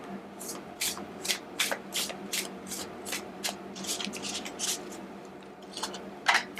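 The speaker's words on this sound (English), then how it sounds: "One more shuffle." Tarot cards riffled and shuffled by hand in repeated quick crisp bursts, close and fairly quiet, with no one talking.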